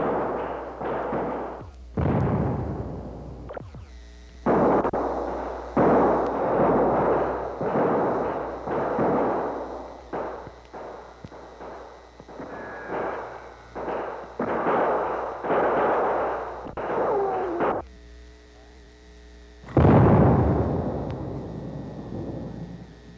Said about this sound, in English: Watch the men shoot volley after volley